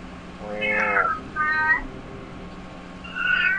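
A cat meows three times close by, two drawn-out calls followed by a shorter one after a pause, clear over a quiet background with low hum.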